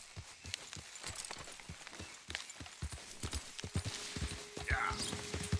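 Horse hooves in Red Dead Redemption 2, a rapid run of clip-clop impacts that picks up pace and grows louder, with a voice talking over them.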